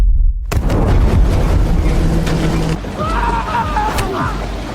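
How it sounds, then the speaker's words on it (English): A sudden loud boom bursts in after a moment of silence, followed by rumbling debris and mechanical noise, with voices and shouts mixed in. "The explosion causes the ship to leak, so Dalton enters the ship's cabin to save E"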